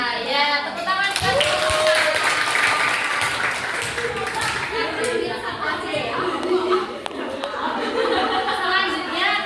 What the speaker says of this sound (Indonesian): Ya, tepuk tangan kan.